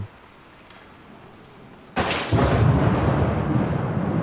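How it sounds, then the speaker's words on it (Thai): A lightning strike cracks in the mobile game Bendy and the Dark Revival. A quiet lull breaks into a sudden loud, sharp thunderclap that rolls on as a sustained, roaring rumble. "เราแค่ฟ้าผ่าไฟตกนะ"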